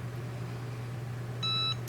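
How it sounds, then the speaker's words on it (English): A Cricut heat press gives a single short electronic beep when its cycle finishes, a clear tone over a low steady hum in a quiet room. "So that beeped and now it's done."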